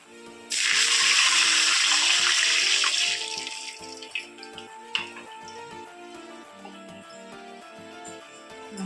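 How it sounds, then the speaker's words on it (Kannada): Half a glass of water poured into a hot pan for chow chow bath (vegetable upma and kesari bath), a loud sizzling gush of about three seconds, then softer bubbling and clinks against a faint background melody. "ಇದೊಂದು ಅರ್ಧ ಗ್ಲಾಸ್ ನೀರು ಹಾಕ್ತಾ ಇದ್ದೀನಿ."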